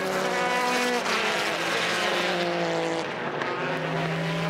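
Onboard engine of a Subaru race car leading a Japan GT race from pole, a loud continuous high-revving drone with steady harmonic tones shifting through gear changes, close and unbroken throughout.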